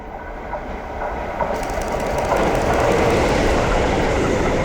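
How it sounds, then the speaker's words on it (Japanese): A Keio Line commuter train rumbles past close by, a steady broadband roar that swells louder as it nears and stays loud to the end. "いつもの京王線で近づいてくる電車と遠ざかる電車を連写します"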